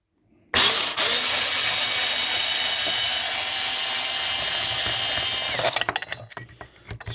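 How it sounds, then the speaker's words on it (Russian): A power tool whirs up and runs at a steady high pitch for about five seconds while undoing the four bolts on a Lada Kalina, then stutters in short bursts as it winds down. "Открутили все 4 болтика мы."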